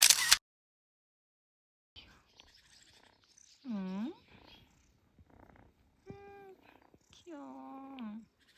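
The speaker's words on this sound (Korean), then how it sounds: "아기 고양이." A small kitten purrs and mews close by during a road trip in Kyrgyzstan, with soft rising meows and a low rumbling purr between them, alone and without talk.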